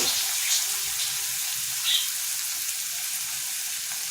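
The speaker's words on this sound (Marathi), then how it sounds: "आता कांदा आपला भाजत आलेला आहे" Onions fry in a pan for Marathi-style egg bhurji, giving a steady, bright sizzle with a couple of brief louder spits, close and uninterrupted.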